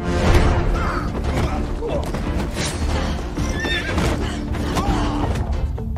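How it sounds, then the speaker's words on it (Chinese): A horse whinnies loudly among clattering hooves and rattling carriage mechanisms during a fantasy film chase, with thumps and scattered voices amid the action. "其余人见状驾驶马车逃跑"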